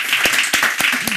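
A television talk show audience claps in a short run of sharp, evenly spaced claps over a busy room murmur.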